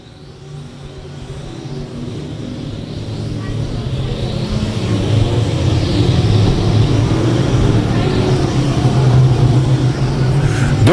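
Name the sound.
race cars (E Mods) racing at I-35 Speedway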